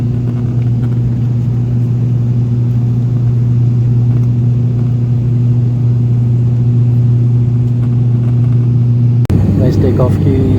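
Airplane engine at full throttle during takeoff on a flight to Pokhara, heard from inside the cabin as a loud, steady droning rumble with strong low tones that continues throughout. A voice begins speaking near the end.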